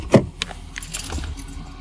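Truck keys jangle briefly as they are handed over beside a truck, a short close metallic rattle followed by quieter handling and faint background.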